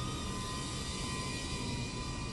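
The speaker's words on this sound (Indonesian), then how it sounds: "Ya namanya drone 2 inch ya." A Flytalk Pavo20, a 2-inch FPV drone, flies in calm, windless air, producing a steady, unbroken high-pitched motor whine with an airy hiss that holds constant throughout.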